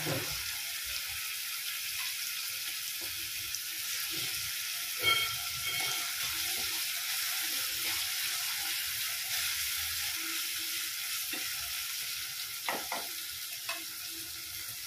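Chopped tomato pieces sizzling steadily in a frying pan over medium heat, a constant hiss with occasional stirring scrapes and small clinks, no voice.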